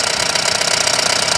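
Diesel engine of a Mahindra Bolero Maxi Truck Plus running just after starting, after a starting problem traced to the diesel tank motor, giving a steady close knocking idle rattle heard alone.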